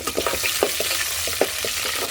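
Tempering seeds crackle and pop in hot oil in a pan, a close, lively run of sharp sizzling bursts over a steady hiss with no voices.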